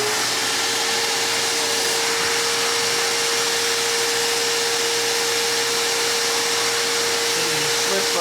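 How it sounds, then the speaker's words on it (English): A shop vac running steadily near a car seat while a leather headrest cover is fitted: a constant loud whining hum and airy rush with no breaks, close by. "you can use a shop vac. And I've got the shop vac over the post here."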